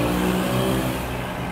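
A Deluxe 385 tractor engine runs loud and close, a steady throbbing drone that rises as it is revved, heard alone without voices.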